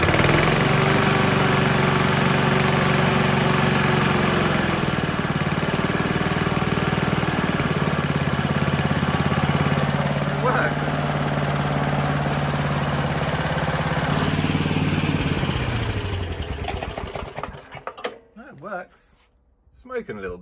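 Salvaged petrol lawn mower engine running steadily, a loud, close, rough drone that holds for most of the clip before cutting out and sputtering to a stop near the end.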